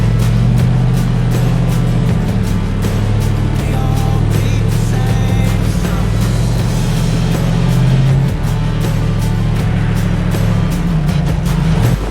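The turbocharged 5.3-liter LS V8 of an Ultra 4 off-road rock crawler rumbles loudly and continuously on a canyon trail, with deep throttle surges as the car works over rocks.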